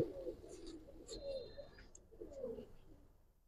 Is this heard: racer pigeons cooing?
yes